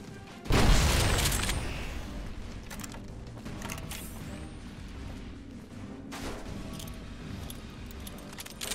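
A grenade blast in Fallout: New California hits with a loud, sudden boom near the start, then trails off into a long rumbling decay with scattered clatter and faint movement afterward.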